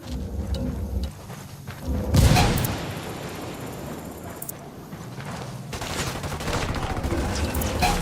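Gunfire erupts in Tom Clancy's Ghost Recon Wildlands during a convoy ambush, with bursts of loud rifle and machine-gun shots and booming blasts rolling through, heaviest early on and again near the end, alongside some voices.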